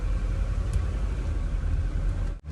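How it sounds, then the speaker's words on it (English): A 1981 Mercedes-Benz 300D W123 diesel drives along with its windows down. A steady low engine rumble runs under broadband road and wind noise, briefly dropping out near the end. "let's do a test drive on this 1981 300D"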